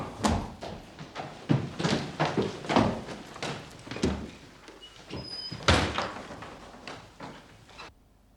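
A locked door in an old country house is tried and rattled repeatedly, with a string of loud, close knocks and jolts in an uneven rhythm that stops abruptly at the end.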